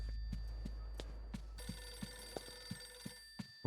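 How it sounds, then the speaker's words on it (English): A telephone rings in the horror video game Eternal Darkness: Sanity's Requiem, a bright tonal ring heard once, set against a low drone and a regular series of soft thuds like footsteps. "Phone."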